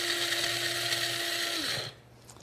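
A blender grinds pumpkin seeds into powder in a quick spin, a loud steady high-pitched whir that holds for under two seconds before the motor winds down and stops.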